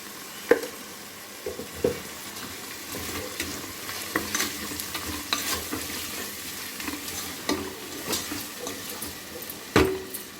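Chopped tomatoes with green chilies and salt cook in a pan with a soft, steady sizzle, broken by several sharp scrapes and clacks of a spoon stirring against the pan.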